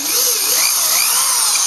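Power drill boring holes for a boat motor mount, running at low RPM under firm pressure with a steady, close whine and no talk.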